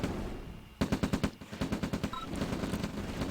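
Rocket trooper fire in the real-time strategy game Kernel Panic: a rapid rhythmic burst of about a dozen sharp shots, then a brief pause and a further run of quick shots, fairly quiet overall.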